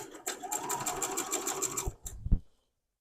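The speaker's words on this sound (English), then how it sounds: "all I'm doing is just running it through the machine, stitching on both sides of the line" A sewing machine stitches a quilt block on both sides of a marked line. It runs in a steady rapid whir for about two seconds, then gives a short burst and a clunk before going quiet, with no talking.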